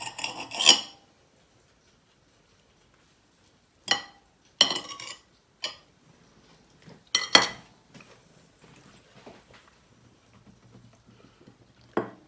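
Knife slicing a chicken mayonnaise sandwich through the center: a few short scraping, crunching cuts and clinks against a plate, separated by quiet pauses, close and crisp.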